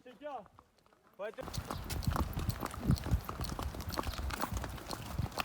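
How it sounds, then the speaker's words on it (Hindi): Horse hooves clip-clop steadily on a ride in Kashmir, close by, the regular beat continuing after a short stretch of talking at the start. "My horse's name is Raftar and Raftar is not in Raftar right now but I like it that way"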